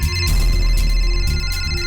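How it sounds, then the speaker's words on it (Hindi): A mobile phone left at home rings in a steady repeating electronic ringtone, clear and fairly close, with no voices. "फोन भी घंटी बज रही"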